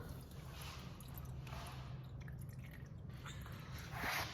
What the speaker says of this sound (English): Let that drip.